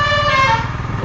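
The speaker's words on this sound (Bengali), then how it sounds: "হর্নটা তো আলাদাই লাগিয়েছে।" A vehicle horn honks loudly and close in Kolkata traffic, one sustained bright tonal blast over the rumble of a motorcycle engine idling nearby.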